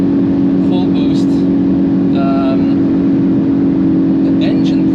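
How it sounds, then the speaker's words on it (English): A tuned Hyundai i20 N climbs uphill at full throttle and full boost on a hot day, a steady loud engine drone heard from inside the car, with occasional faint higher whines. "We are climbing uphill on full throttle, full boost."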